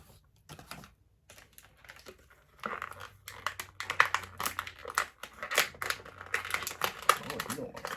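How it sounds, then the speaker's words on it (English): Plastic packaging around a Super Mario figure crinkling and crackling close to the microphone during unboxing, in dense irregular bursts that grow busier in the second half, with a voice heard under it. "Let me set Mario free here out of this packaging."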